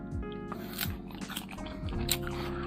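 Crisp bites into a ripe, crunchy Taiwanese Shui Mi white-fleshed guava, with several close crunches and chewing sounds in succession. No one speaks.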